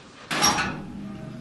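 A door opened once with a short, loud scraping swoosh, followed by a quiet room.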